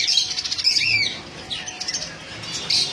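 Caged pet birds, lovebirds among them alongside java sparrows, chirp and squawk in a busy overlapping chatter with occasional wing flutters, steady and fairly close with no talking.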